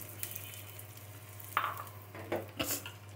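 Onions frying in a little oil for beresta, with a soft steady sizzle and a few louder stirring scrapes and clatters of a spoon against the pan, close by and without talk.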